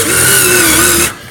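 An electric drive motor for a sliding gate runs hard under load, giving a loud steady whine with a sustained pitch for about a second before cutting off abruptly.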